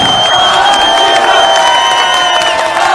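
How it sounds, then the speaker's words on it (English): A loud, dense crowd at a CS:GO esports championship semi-final cheers and whoops continuously, with clapping mixed in and sustained shouts and whistles carrying across the whole stretch. "A round of applause for Argentina!"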